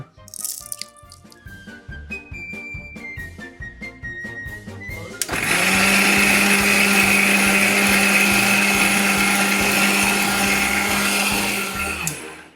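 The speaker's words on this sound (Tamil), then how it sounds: "ஒன்று மிக்சியில் அதை போட்டு அரைக்க சொன்ன ரைட்டு" Mixer grinder grinding crab curry masala, a loud steady whirring motor roar that starts abruptly after several seconds of clattering and runs continuously until it stops near the end.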